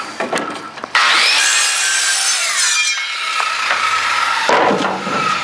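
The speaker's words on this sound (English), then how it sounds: "you can make a square cut on a 2x2" A circular saw rasps steadily through a wooden 2x2 for several seconds, loud and close, with brief scraping strokes before and after the main square cut.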